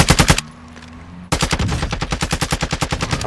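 Rapid bursts of automatic gunfire in Call of Duty DMZ, loud and close, a short volley, a brief lull, then a longer sustained stream of evenly spaced shots.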